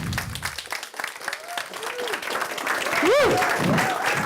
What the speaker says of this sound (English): can you all stand, please, and give a massive round of applause to Chantelle Bowyer.